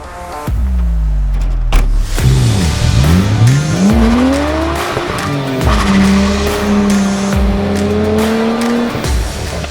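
Nissan S13 drift car being driven hard, its engine revving up and down loudly with rising and falling pitch while the tires squeal and skid continuously, close and alone for the whole stretch.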